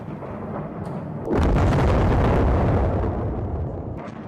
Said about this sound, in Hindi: गैस पाइपलाइन में जोरदार धमाका